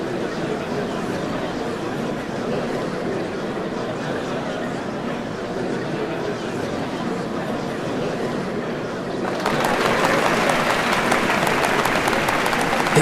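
A large festival crowd in the Final Fantasy XIV: Dawntrail cutscene for the changing of Dawnservants claps and cheers in a steady, dense roar, swelling louder and brighter toward the end.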